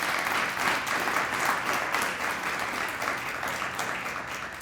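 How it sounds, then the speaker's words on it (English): Sustained audience applause for a panel at an evening medical ethics event, a steady dense wash of many hands clapping at even loudness throughout, with no talk over it. "Why don't you give them a round of applause for all their work."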